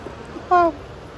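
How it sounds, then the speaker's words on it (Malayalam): A domestic cat gives one short, clear meow about halfway through, standing out against a quiet room background. "യഥാർത്ഥ പൂച്ച."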